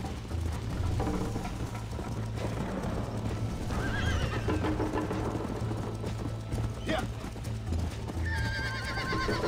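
Galloping horse in the Red Dead Redemption video game, hooves clip-clopping steadily throughout with neighs and whinnies breaking in, set over a dense game soundscape with mechanical clanking.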